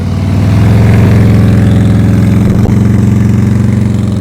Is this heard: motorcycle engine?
yes